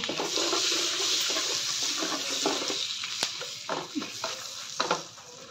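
Masala and cashews cooking in a pan, a steady hiss of sizzling with a few scrapes and knocks of stirring near the end, close up and without speech.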